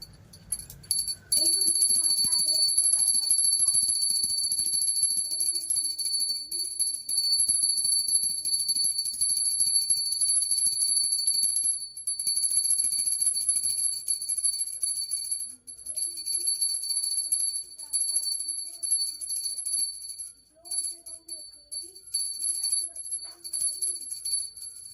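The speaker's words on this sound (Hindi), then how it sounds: "मैं घंटी बजा रही हूँ बेटा।" A small hand bell rings continuously during a Hindu aarti prayer at home, a bright, sustained jingling that carries on almost unbroken, with faint background voices underneath.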